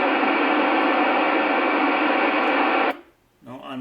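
Amateur radio receiver on a simplex net with squelch opened, giving a loud, steady broadband hiss of static for about three seconds that then cuts off abruptly, followed by a short faint burst.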